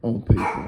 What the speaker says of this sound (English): Sorry for the dog, the trash is getting picked up outside.